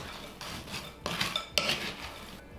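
A utensil stirring and scraping food in a bowl, with clinks and rubbing strokes of metal against dish coming in uneven bursts, close and fairly loud with no talking.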